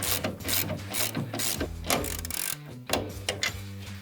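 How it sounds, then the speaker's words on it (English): Ratchet tightening upper strut hardware on a Toyota FJ Cruiser during a leveling kit install, rapid close clicking bursts in short repeated strokes with brief pauses between them. "Now we're gonna move to the top of the strut and start the hardware."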